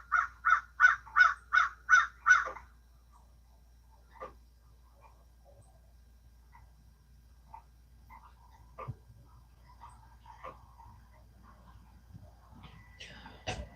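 A bird repeats a loud, high-pitched call six times in a quick, steady series at dawn in snowy weather, then faint scattered calls follow over low background hum.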